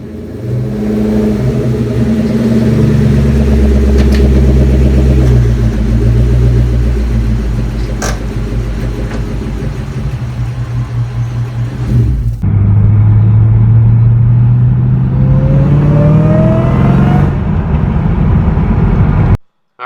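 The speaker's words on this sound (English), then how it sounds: "Cobra runs good, coil packs are doing just fine." A 2003 Ford Mustang Cobra engine with new coil packs runs loud and close, a steady throaty rumble that revs up and climbs in pitch partway through before settling again.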